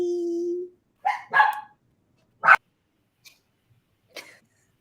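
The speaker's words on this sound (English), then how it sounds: "The dog." A dog barks a few times in short, sharp bursts spaced by silence, close and clear, with a brief voice sound at the very start.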